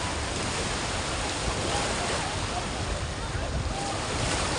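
Sea waves washing in at Marina Beach near Cox's Bazar, a steady broadband roar of surf mixed with wind buffeting the microphone, continuous and close throughout, with no speech.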